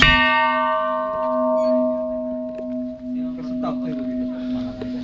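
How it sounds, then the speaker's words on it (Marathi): A large bell at Bhuleshwar temple near Pune is struck once and rings with a long, sustained metallic hum that slowly decays, with faint voices and footsteps of visitors in the background. "पुढे आल्यानंतर तुम्हाला खूप मोठी इथे घंटा दिसते."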